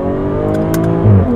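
A 2020 Jaguar F-Type Checkered Flag with a ZF 8-speed gearbox drops a gear and pulls hard, its loud engine note climbing steadily before a deeper exhaust surge near the end, with no talk.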